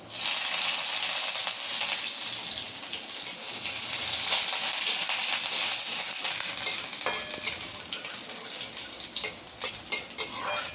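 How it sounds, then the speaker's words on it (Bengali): Chopped garlic frying in hot oil, a dense, close sizzle running steadily throughout, with a few light clinks of a utensil stirring near the end and no voices. "রসুনটা লাল লাল করে ভেজে নিতে হবে"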